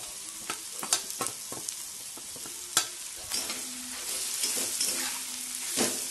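Cumin and chili chutney fry in hot oil for a chana dal and onion bhaji. A steady close sizzle is broken by scattered clinks and scrapes of a spoon stirring in the pan.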